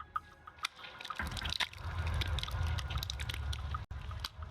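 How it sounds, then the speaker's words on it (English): Silver-like liquid dripping steadily from wingtips into a black pool in the Morimens game, soft watery drips and trickles over a low continuous wash, fairly quiet. "Silver-like liquid drips steadily from each wingtip, creating a soft percussion as it hits the black pool below."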